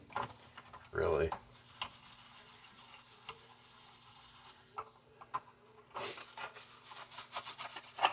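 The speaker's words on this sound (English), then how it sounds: "Just give it a good scrub with some dish soap." A plastic part from a 1986 G.I. Joe Tomahawk toy scrubbed in soapy water with dish soap, giving steady close rubbing and brushing strokes with brief pauses and a short burst of voice near the start.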